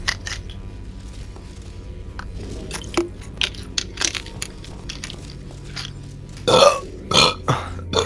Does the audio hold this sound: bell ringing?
no